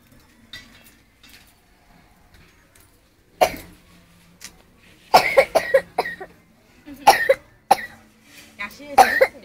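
A woman coughs several times in short bursts in a quiet kitchen, close and sharp, between stretches of near silence, with a faint clink of dishes.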